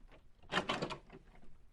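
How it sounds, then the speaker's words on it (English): A door opens in an old-time radio drama, a short wooden creak-and-rattle in the middle of the clip, at moderate level and with no talk over it. "But you'd better open that door, Mrs. Pearson."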